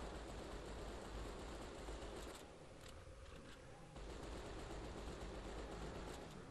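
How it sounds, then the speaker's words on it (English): Assault rifle gunfire in the video game Hunter: The Reckoning: Redeemer, sustained dense automatic bursts with a brief lull midway, a continuous rattling roar at fairly low level. "I am shooting a ghost with an assault rifle"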